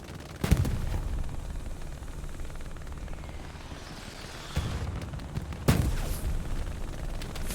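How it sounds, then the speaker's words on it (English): A recon tank firing in the World War II shooter Hell Let Loose, heard as several sharp, distant gunshot bursts spaced apart over a steady low engine-like drone and battlefield rumble. "Shooting everything the recon tank is."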